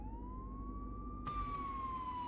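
A police car siren wails in the video game Contraband Police, a clean rising tone that holds steady, then shifts into a brighter, layered pitch alone, quiet and close.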